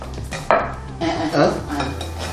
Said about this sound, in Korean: 주걱으로 이제 섞어. 많이 섞어.